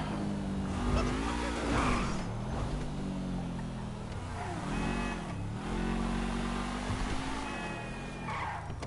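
Car driving and revving in GTA V, engine tones rising and falling in repeated revving sweeps with occasional skids, moderately loud under game ambience.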